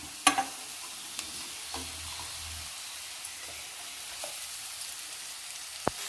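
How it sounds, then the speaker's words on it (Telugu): Ridge gourd pieces frying in oil in a pan, a faint, steady sizzle with a few light stirring clicks and taps, heard alone without talk. "ఇంకొంచెం ఆయిల్ వేసి బీరకాయ ముక్కలు వేసేయటమే"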